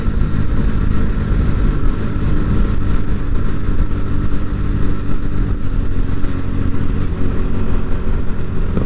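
A Honda NS125 motorcycle being ridden, its engine droning steadily and loudly throughout with continuous road and wind rumble, close up and alone.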